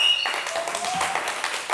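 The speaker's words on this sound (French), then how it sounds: "On les applaudit s'il vous plaît." Applause from an audience at a live event broadcast, a short burst of dense clapping with a voice speaking over it.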